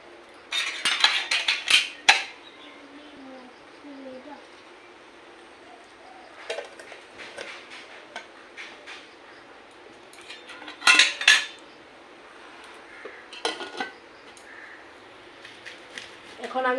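A saucepan and steaming stand being set up with water for a steamed shol fish dish, giving clattering metal clinks and knocks in short bursts, separated by quieter stretches.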